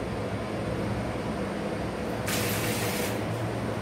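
Spice masala fries in a pan on a medium-high gas flame for crab curry, giving a steady, soft hiss of sizzling, with a brief brighter spray-like burst near the end and no voices.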